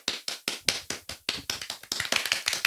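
Hand clapping in a podcast recording, about a dozen sharp, close claps in a fairly steady rhythm that speeds up slightly toward the end, with no talking.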